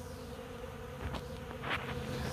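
Honeybees buzz at a hive entrance, a close, steady drone with individual bees zipping past nearby, and no talk.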